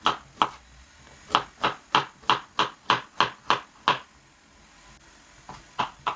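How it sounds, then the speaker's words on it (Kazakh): A knife chopping carrots into rounds on a cutting board while preparing a meat roast, sharp crisp strokes in a steady rhythm, a short pause, then two more cuts, nearby and with no talk. "Сосын сәбізімізді осылай домалақша етіп турап аламыз."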